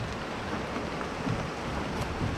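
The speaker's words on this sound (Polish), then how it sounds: "Deszcz." Steady rain falls outdoors beside a combine harvester under repair, an even hiss of drops on surfaces with a few louder patters, filling the scene without voices.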